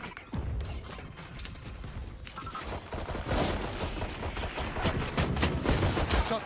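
Valorant gunfire rattles in dense, rapid bursts alongside mechanical clicks and clatter. The shooting is loud and close and continues almost without a break, building toward the end.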